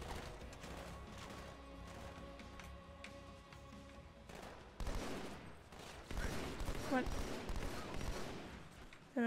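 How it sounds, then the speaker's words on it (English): Halo 2 firefight with bursts of weapon fire and crashing impacts, clustered in rapid volleys over game sounds and music, quiet at first and then louder and denser in the last few seconds. "he shot the weapon"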